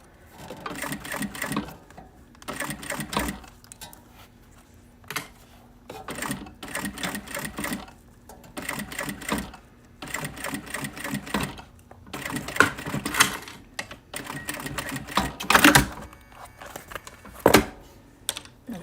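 A sewing machine runs stitching a bag seam with a 1/4 inch seam allowance, in close bursts of rapid mechanical whirring separated by short pauses.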